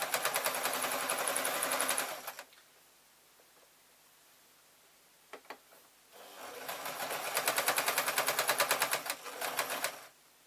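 A sewing machine stitches across a fabric strip on a tote bag, running in a steady close whir for about two seconds, then pausing in near silence before a second, longer burst of stitching.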